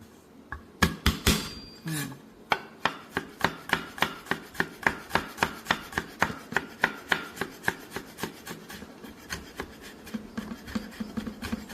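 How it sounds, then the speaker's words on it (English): Garlic cloves smashed for Thai holy basil chicken, a fast run of sharp, evenly spaced thuds on a board, close and loud, slowing and fading toward the end with no talking. "And the garlic, I have to smash like this. They need oil to come out."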